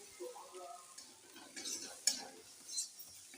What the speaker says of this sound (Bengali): আমি সামান্য পরিমাণ জলটা দিয়ে আমি ভালোভাবে কষে নিচ্ছি মশলাগুলো